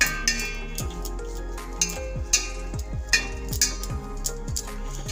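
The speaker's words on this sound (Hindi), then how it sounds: "अब इसे अच्छी तरह से मिला दीजिए।" Sarson ka saag being stirred and mixed in a pot after salt and a glass of water are added, giving repeated metallic clinks and scrapes of a utensil against the vessel in an irregular rhythm, close and moderately loud, with no talk.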